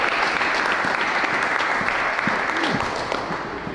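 Audience applause fills the room after a speaker is introduced at a community youth event, a steady dense clapping wash that holds at an even level throughout.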